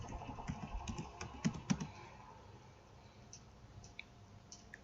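Computer keyboard typing while entering data into SPSS statistics software: quick bursts of close, crisp key clicks in the first two seconds, then only a few scattered taps over a quiet background.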